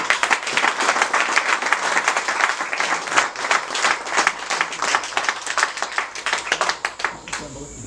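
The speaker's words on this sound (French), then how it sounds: "Applaudissez." A crowd at a local election meeting in the 5th arrondissement claps in a dense, sustained burst, the applause thinning out toward the end, with faint voices mixed in.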